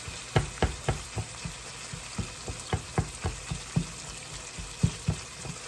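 Very greasy ground beef frying in a pan, a steady soft sizzle broken by regular knocking and scraping pulses, like a spatula working the meat, close and moderately loud with no voices.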